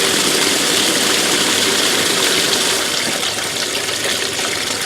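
Loud, steady rush of water pouring into a washing machine as it fills, a constant broadband gush with a faint mechanical hum underneath, unchanging throughout.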